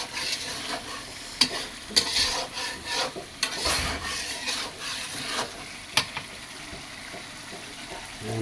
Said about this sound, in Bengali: মশলা কষার পরে আমরা মাছগুলো দিলাম, তাই একটু নেড়ে দিচ্ছি